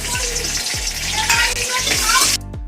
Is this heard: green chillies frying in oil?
yes